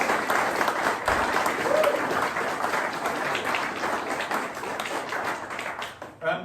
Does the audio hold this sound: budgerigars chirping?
no